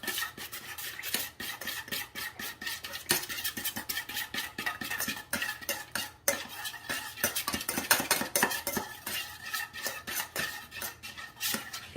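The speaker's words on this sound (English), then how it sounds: "Let's grab a spoon here. We're gonna give this a nice mix." A spoon stirs a honey, mustard and balsamic glaze in a dish, making a steady run of quick scraping, clinking strokes close by, with no talking.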